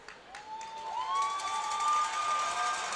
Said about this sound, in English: Schnapp getting an ovation from the crowd